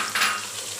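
Mutton korma with garam masala frying in a pot, a short burst of close sizzling with a brief stir-like swell near the start, then settling into a softer hiss.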